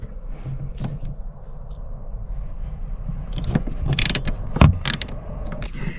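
A ratchet fitted with a 10mm splined socket works loose the seat bolts in an Audi A3 8P Sportback, giving close mechanical clicking and clunks that build into sharper metallic knocks toward the end, with no talk.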